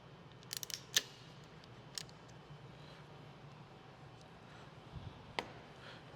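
Crimp tool squeezing an IDC connector onto the black wire of a negative cable clamp, giving a few quiet, sharp clicks and snaps spaced over a few seconds against low background hum.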